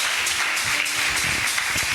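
A church congregation applauds in brisk, dense clapping for two seconds, loud and close, with a voice briefly audible underneath.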